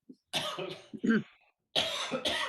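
A few raspy coughs close to the mic, a short burst followed by a rougher throat-clearing cough after a pause.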